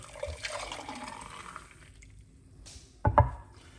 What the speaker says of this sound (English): let's pour it out to see what's going on